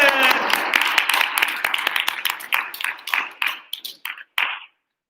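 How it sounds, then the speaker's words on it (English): Classmates in a classroom clap for a student heading up to speak at a debate, a short burst of many hands that thins to a few scattered claps and stops, with a voice talking at the start. "Claps for, who's up first? Jordan, clap for Jordan!"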